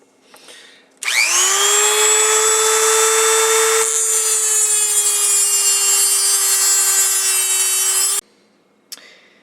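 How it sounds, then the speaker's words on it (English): A Dremel fitted with a cutting wheel bites into stainless steel for a Leslie speaker's RS diffuser ring, giving a loud, steady high-pitched whine that runs continuously for about seven seconds before cutting off abruptly. "Got a cutting wheel in the Dremel, safety glasses,"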